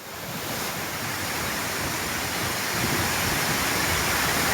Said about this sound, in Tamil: அருவியில் நீர் ஆக்ரோஷமாக பாய்ந்து செல்கிறது.